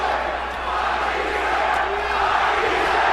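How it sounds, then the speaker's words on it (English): Boxing arena crowd at a Matthysse versus Provodnikov fight, a dense, steady roar of many voices chanting the fighter's name, loud and continuous throughout. "And the crowd is chanting, Matthysse, Matthysse, Matthysse."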